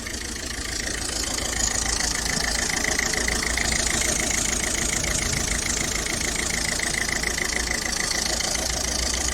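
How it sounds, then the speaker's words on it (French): A 2013 Citroën C3 with a 1.4 HDi diesel idles while warming up, a steady close clatter with a rhythmic diesel knock that runs evenly and continuously, with no voices. "on laisse un peu chauffer le moteur pour pouvoir aspirer l'huile correctement"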